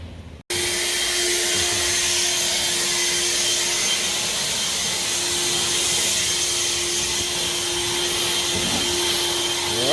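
Battery-powered electric leaf blower running steadily and loudly up close, a continuous whining roar with a constant tonal hum that starts abruptly and holds for the whole stretch, with no talking.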